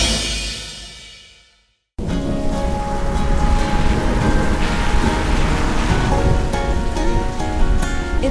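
Steady rain falls on Valentine's Day in Las Vegas near a little wedding chapel. After a brief fade to silence, a dense, loud, unbroken hiss of rainfall continues.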